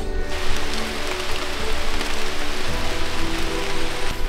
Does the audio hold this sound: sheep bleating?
no